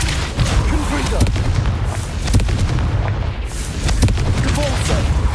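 Booming magical blast effects from the Confringo spell in the Hogwarts Legacy video game, a dense run of heavy impacts and explosive thuds layered with game sounds and faint voices, loud and continuous.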